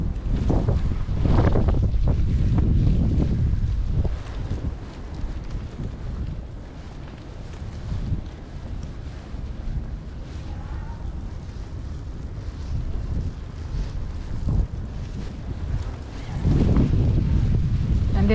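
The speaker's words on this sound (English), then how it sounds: "it's getting a bit windier as I'm walking here" Strong wind roars and buffets the microphone while someone walks a New York street during a nor'easter snowstorm. A steady low rumble runs throughout, with heavier gusts at the beginning and again near the end.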